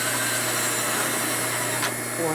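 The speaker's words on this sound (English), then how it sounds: "High speed drilling. No lube, of course." A drill runs at high speed without lubricant while rebuilding a 2001 Gilroy Indian motorcycle, giving a steady loud whine with grinding, and a brief sharp scrape near the end.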